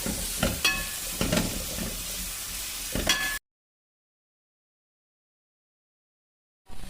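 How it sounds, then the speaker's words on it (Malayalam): Onions and green chillies sautéing in a pan for a Kerala-style chicken curry: a steady close sizzle with clacking spoon stirs, cut off abruptly into silence before the sizzle briefly returns at the end. "വലിയുള്ളി നല്ലോണം വാട്ടുക. നല്ലോണം വാട്ടണം."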